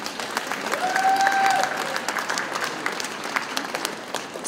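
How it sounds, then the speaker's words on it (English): An audience applauds Mayor Walsh at a 2017 Americans with Disabilities Act Day event: dense, steady clapping from a crowd that stays full for the whole stretch, with no speech over it. "So let's give a round of applause for Mayor Walsh."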